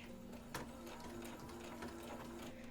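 A sewing machine steadily runs as it stitches down a waistband, giving an even, buzzing hum with a rapid rhythmic needle chatter. It is close and moderately quiet, with no talking.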